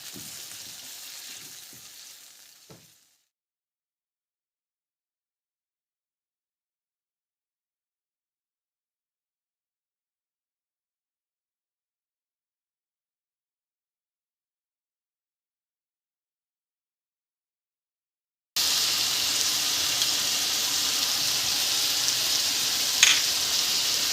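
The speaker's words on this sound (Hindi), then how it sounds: "अब हम अपनी चिकन फ्राई करते हैं" Marinated chicken pieces for a chicken boti burger fry in a pan with a close, steady sizzle. The sizzle runs briefly, stops into a long silence, and then returns louder near the end.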